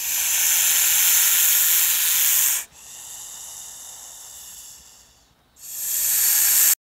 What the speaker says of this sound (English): This sound of the snake is called hissing.